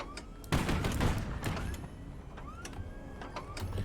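Weapons fire in the naval combat game HighFleet, with a heavy burst of shots early on followed by repeated bright whistling projectile sweeps and further discharges, loud against a dense mechanical battle roar.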